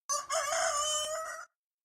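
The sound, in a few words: rooster crowing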